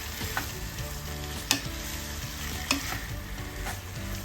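Pork innards, intestine and liver, fry in a pan while being stirred, producing a steady close sizzle broken by a few sharp clinks and scrapes of the utensil against the pan.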